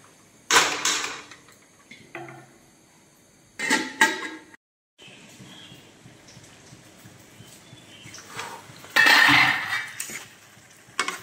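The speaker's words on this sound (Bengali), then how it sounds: "এবার ঢাকা খুললাম" Metal clatter of a cooking pot lid being lifted off a chicken and cashew dish on a lit gas stove, heard as a few sharp clinking bursts separated by a low, steady kitchen background.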